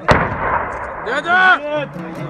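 Artillery fire during a Peshmerga assault on ISIS-held villages east of Mosul: one sharp, loud blast at the start with a rolling echo, then a faint whistling, wavering tone that rises and falls.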